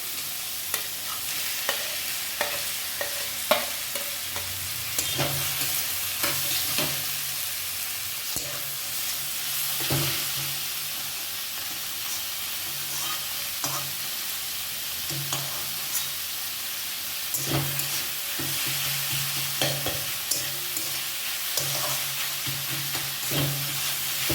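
Hilsa fish tail fries with chopped onion, green chili and tomato in a pan, a steady sizzle broken by repeated scraping stirs of a spatula, close and continuous with no speech.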